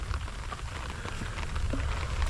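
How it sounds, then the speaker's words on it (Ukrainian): Steady rain patters on surfaces during a thunderstorm at a riverside fishing camp, a continuous close hiss with no voices over it. "Почалась у нас гроза, накрапає дощ."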